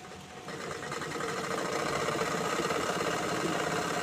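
A sewing machine stitches steadily, a close, even mechanical whirr with fine rapid ticking that builds slightly in the first second and then runs on without pause.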